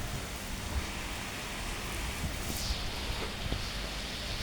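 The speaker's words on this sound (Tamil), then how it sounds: "மழை பெய்யுதுங்க ஜோரா." Heavy rain pours down during a trip in an Innova Crysta, a steady, dense hiss of falling water with occasional soft thumps of drops.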